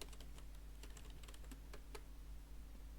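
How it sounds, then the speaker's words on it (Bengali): Rapid keystrokes on a computer keyboard as a name is entered into a search box, a quick burst of light clicks over a steady low hum, no voices. "দেখেন এখানে আমি যদি আমার নাম লিখি"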